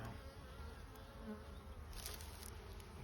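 Steady, dense buzzing of many honeybees around a hive in spring, a continuous close drone with no breaks and no voices.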